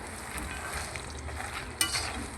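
Ingredients frying in ghee in a pan, a faint, steady low sizzle with a small clink partway through, close and without any voices.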